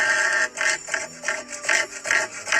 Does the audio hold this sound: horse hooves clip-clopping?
no